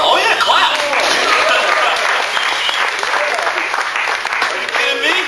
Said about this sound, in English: Man, you better clap.